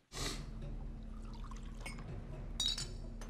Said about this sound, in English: Is he pouring him a drink?